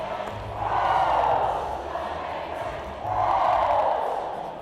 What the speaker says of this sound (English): You've got the Ridgeland crowd on both sides of the court getting into the action.